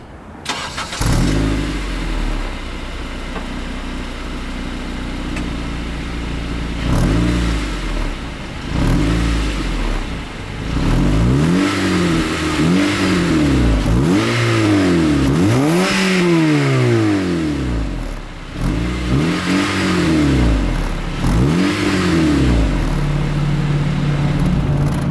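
A 2012 Honda Civic Si with a K24 four-cylinder and aftermarket exhaust revs repeatedly near the microphone, each throttle blip climbing and falling in a steady series over a constant idle, with no talking.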